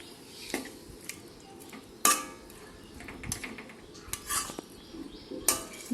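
Loitta (Bombay duck) fish being stirred with spices in a pan makes repeated scrapes and metallic clinks of a utensil against the pan, loud and close, in irregular bursts with no talking.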